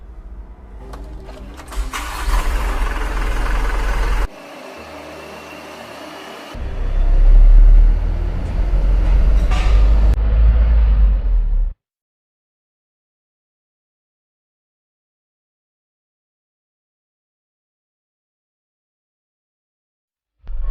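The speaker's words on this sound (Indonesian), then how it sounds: "kita langsung saja coba mengendarai Canter Euro 4 ini" A Mitsubishi Canter Euro 4 truck from 2022 starts up and pulls away, a close diesel clatter that swells under load and then cuts off abruptly into silence.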